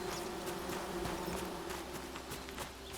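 Steady bee buzzing in the video game Among Trees, a faint continuous drone under soft ambient noise with scattered light ticks and clicks, no voices.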